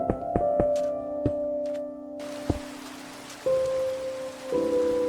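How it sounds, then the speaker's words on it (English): Steady rain hiss in the video game Minecraft starts partway through and continues evenly, layered over sustained, chime-like game tones and a few soft knocks. "It rains. Always rains. What is it with Minecraft and rain?"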